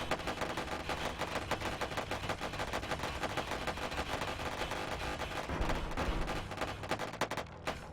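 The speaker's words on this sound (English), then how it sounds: "fire a crap load of turrets shots into the side of him right here" Dense, continuous volley of turret fire slamming into the side of a ship in the space game Wayward Terran Frontier: Zero Falls, rapid overlapping shots sustained loudly throughout with no pause.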